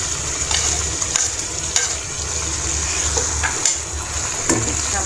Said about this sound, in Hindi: अब इसको अदरक लहसुन को हम थोड़ा सा इसमें प्याज़ों के साथ फ्राई कर लेंगे।